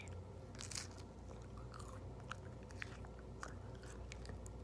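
Chicken nuggets are bitten and crunched close to the mic, a series of crisp crackling bites and chews over a steady low background hum, with no talking.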